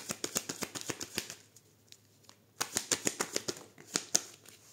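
A deck of tarot cards is riffled and shuffled close by in a quiet room: rapid bursts of crisp flicks and slaps, a pause, then another run of quick snaps, with no talking.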